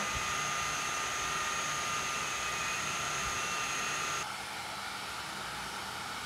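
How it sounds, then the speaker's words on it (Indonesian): A DJI drone with its motors and propellers spinning nearby gives a steady, airy whirring roar with a high whine on top; partway through, the whine drops away and the hum settles slightly quieter. "mesinnya juga aktif ya teman-teman, seperti yang bisa kita dengar"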